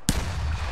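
A single sharp, loud rocket explosion in a war video game, with a sudden blast and a rumbling tail that fades quickly.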